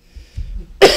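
A single sharp cough bursts out near the end, loud and close, after a stretch of quiet low rumble.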